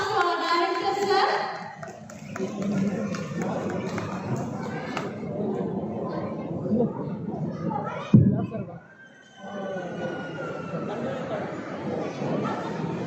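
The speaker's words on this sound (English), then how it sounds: "Let us all give a huge round of applause to our Director Sir." Crowd applause at a public school annual day celebration, a broad sustained wash of clapping and children's cheering from a large audience that dips briefly partway through, then carries on steadily.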